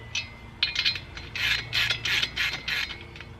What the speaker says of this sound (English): I've got a size 17 millimeter ratchet.